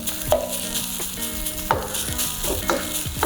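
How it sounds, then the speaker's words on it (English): Leftover rice fries in a scorching hot wok, crackling loudly at close range while a spoon scrapes and tosses it in quick, repeated strokes. "I like to toast the rice just slightly on the hot wok"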